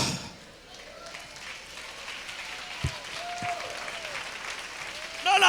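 A church congregation applauds during a sermon, a steady wash of clapping with raised voices and whoops mixed in, swelling louder toward the end.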